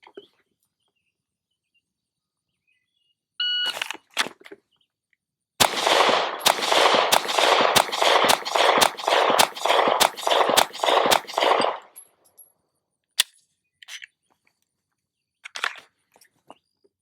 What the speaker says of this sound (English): Okay, so shooting the test for a second time.